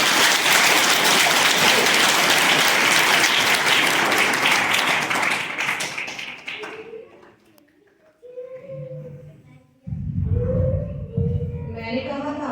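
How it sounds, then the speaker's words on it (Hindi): Children clap together loudly in sustained applause at a school event at a Bal Shishu Mandir, the clapping fading away after about six seconds, followed by quieter voices and another speaker talking. "आप जो है एक बार मेरे लिए तालियां बजाओ"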